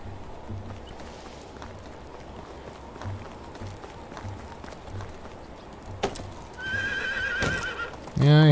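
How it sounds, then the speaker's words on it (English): A horse in the medieval farming game Medieval Dynasty neighs loudly near the end, its whinny rising clearly over a steady wash of ambient game background and clip-clop of hooves. "I hear you, horse. You sure do make a lot of noise, buddy."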